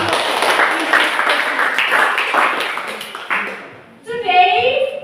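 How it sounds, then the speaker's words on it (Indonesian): Classmates clap together in a classroom, a brisk round of many hands that fades out after about three seconds before a voice begins speaking. "tepuk tangan dulu ya"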